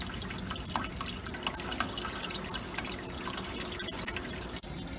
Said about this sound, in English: We still have the fat separator fill solenoid running and still have water coming out of the fill port.